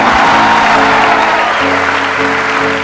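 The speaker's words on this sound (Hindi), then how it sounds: "बजाओ ताली" An audience claps loudly in a dense, steady burst that fades slightly, with a faint voice underneath.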